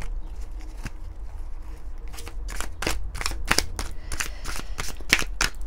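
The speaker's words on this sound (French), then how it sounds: "j'ai envie de prendre quelques cartes de l'oracle de la rose éternelle" Oracle cards from the Oracle de la Rose Éternelle deck being shuffled by hand, a close run of sharp riffling bursts, sparse at first and then in quick repeated flurries.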